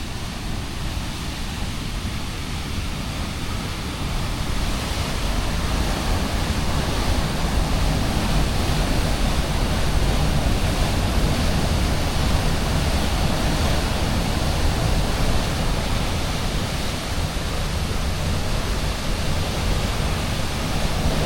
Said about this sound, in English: Can really hear the water going through this building.